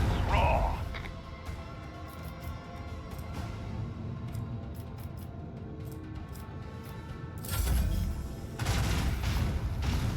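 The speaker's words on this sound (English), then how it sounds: "I want to hear the macro cannons roar." Macro cannons fire during a space battle in the Warhammer 40K game Rogue Trader, a dense, steady rumble of booming gunfire that swells sharply near the end, with no speech over it.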